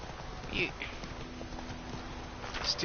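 Horse hooves clip-clop at a walk in The Witcher 3 video game, soft and steady under background sound, with a voice briefly speaking over them.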